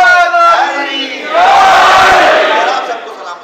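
A mosque or majlis audience in Lahore raises a loud collective chant, a swelling mass of voices that starts with one voice then surges around 1.4 seconds and holds strong before easing off.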